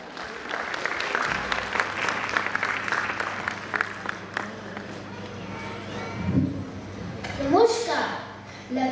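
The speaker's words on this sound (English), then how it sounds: "please welcome them on stage with a huge round of applause" School annual function audience gives a round of applause, scattered and fairly faint clapping lasting several seconds, with stage sounds and a voice near the end.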